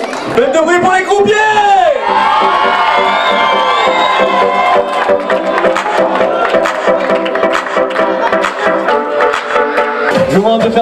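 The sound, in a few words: crowd cheering and making noise for croupiers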